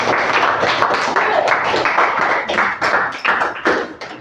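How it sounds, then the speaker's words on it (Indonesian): A junior high class applauds a student group in the classroom, a loud run of clapping that comes in uneven bursts and swells through the whole stretch. "Ya, silakan tepuk tangan buat kelompok 3 ya."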